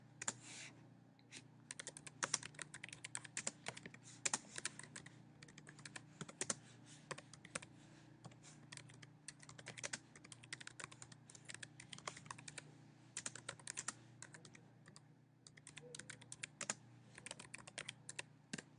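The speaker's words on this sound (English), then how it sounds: "just start typing anything in there" Steady, rapid typing on a computer keyboard, soft clicking keystrokes in irregular bursts with brief pauses, close and quiet, no voices.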